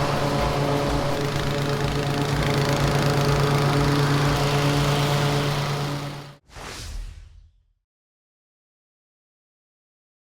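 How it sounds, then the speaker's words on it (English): A lawn mower runs steadily at close range with a rhythmic engine drone, then cuts off abruptly, sputters briefly, and falls silent. "It's time for a mow, and it might be a double cut."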